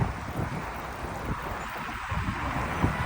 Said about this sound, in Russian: Ветер пронизывающий.